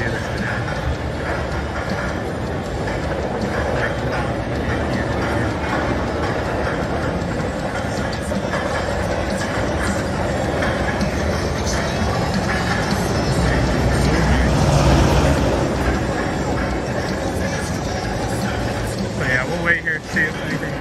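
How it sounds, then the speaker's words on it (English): An amusement park ride's test train at Kings Dominion rumbles along its track nearby, a steady mechanical roar with rattling swelling mid-passage, under a busy outdoor park ambience. "So they just sent a test train to get these people off."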